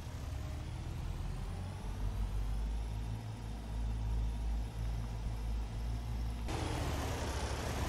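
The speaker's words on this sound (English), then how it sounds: "the truck just arrived with about 3 tons of gravel here" A gravel truck loaded with about 3 tons of gravel pulls in within Farming Simulator 22, a steady low engine rumble running throughout with a sharper shift near the end.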